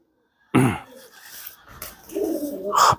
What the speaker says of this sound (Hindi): ये आला किस्म का कबूतर है जी